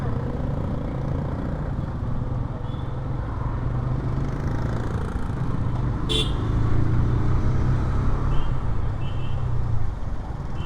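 A 2024 TVS Apache RTR 160 2V motorcycle ridden on the road, its engine droning steadily up close under heavy rushing wind noise, with a brief high squeak midway that may be brakes.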